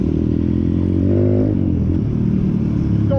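Close, loud pit bike engine, a 198 cc machine among others, revving with a rising whine that climbs and falls, over a constant rough engine drone and clatter, with no talking.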